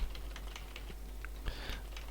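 Computer keyboard keys struck in scattered bursts during Cataclysm: DDA play, crisp nearby clacks with a few heavier presses, no talking.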